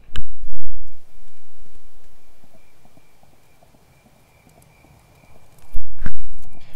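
Hooves clip-clop from a horse in a video game, loud hoofbeats in short bursts that fade away into near silence and then return with a couple of sharp thuds.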